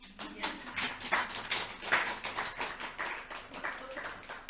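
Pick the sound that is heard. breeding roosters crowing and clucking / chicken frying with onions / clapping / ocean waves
clapping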